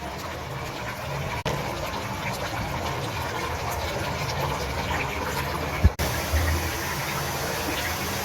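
Camel meat sizzles steadily in a hot pan as its released water cooks off, a dense, even hiss and crackle that runs alone without talk and is briefly interrupted by a couple of clunks.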